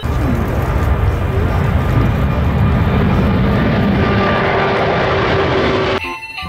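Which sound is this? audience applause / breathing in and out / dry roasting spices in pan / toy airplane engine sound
toy airplane engine sound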